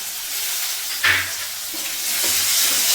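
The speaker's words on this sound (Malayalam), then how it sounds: "നന്നായിട്ടൊന്ന് ഇളക്കാം." Onions, shallots and green chillies sizzle in a pan for a Kerala bitter gourd thoran while being stirred, giving a steady close frying hiss with one brief louder scrape of stirring partway through.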